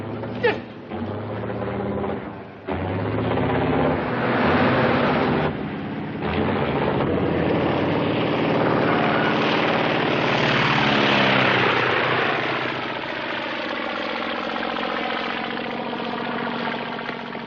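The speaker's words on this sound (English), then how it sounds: "Mr. Snavely, my plane took off without me." A 1950s propeller airplane engine drones loudly and steadily, its pitch shifting as the plane takes off and flies overhead, with no talking over it.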